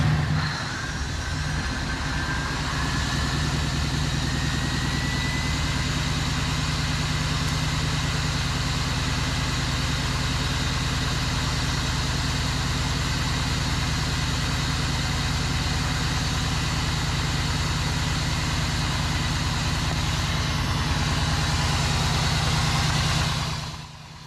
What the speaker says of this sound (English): Priming the engine and starting it.